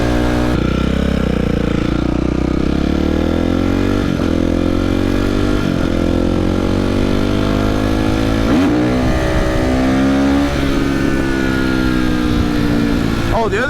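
A motorcycle engine runs loud and close throughout, revving up and down in rising and falling sweeps with no break.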